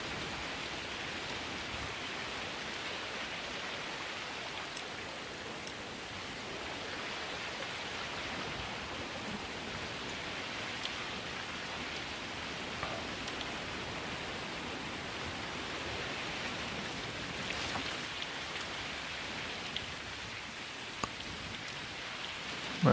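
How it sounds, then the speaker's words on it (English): Steady rain falls throughout in the Eldfjall expansion of the mountain-biking game Lonely Mountains Downhill, an even, dense hiss with faint scattered drop ticks and no talking. "But again, you know, the rain isn't helping either."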